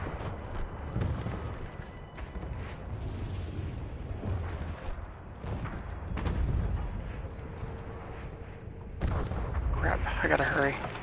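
Stick grenade explosions in the World War I shooter Battlefield 1, heavy booming blasts and rumbling gunfire that roll on throughout, with a loud burst near the end.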